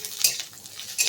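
Chopped bitter gourd tossed into a hot pan with tempering spices and chopped onion crackles in short sizzling bursts, mixed with the scrape and clink of a utensil against the pan.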